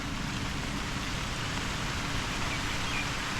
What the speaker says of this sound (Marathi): त्यानं पावसाने सुरुवात केली